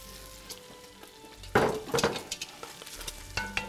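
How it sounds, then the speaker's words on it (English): Bacon and onion cook together in a pot over a fire, with a low sizzle and several loud scraping stirs and clinks close by, including one strong burst partway through. "You wanna make sure you cook the bacon, but not to a crisp."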